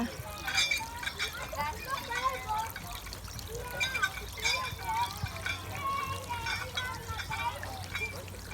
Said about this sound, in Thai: ดูสิคะ เด็กปั่น น้ำก็ออกมา